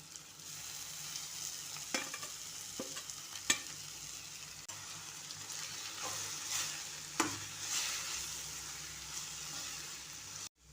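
Chopped dill greens fry quietly in oil, a soft, steady sizzle broken by occasional scrapes and taps of a stirring spoon against the pan, with no voices.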